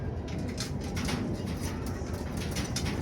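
Pigeons in a breeding loft of imported birds coo steadily, their low soft calls layered under a continuous murmur of flock noise, with occasional faint wing movement.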